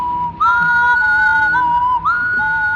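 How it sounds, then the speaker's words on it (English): Someone whistles a melody in a kids' TV show: a clear, loud tune of sustained notes, with a brief break and a rising swoop into a higher note, heard alone without speech. "they start to hear whistling."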